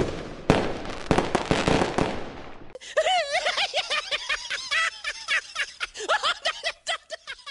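In a Filipino animated cartoon, crackling bursts of fireworks for a few seconds, then people laughing and chattering excitedly over fading pops.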